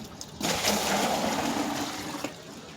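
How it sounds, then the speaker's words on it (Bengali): Water pours steadily into a 20-litre bucket, a continuous broadband splashing rush that begins abruptly and runs on evenly, filling the space with a close, hissing gush. "তাতে প্রথমে 10 লিটার জল নেওয়া হলো।"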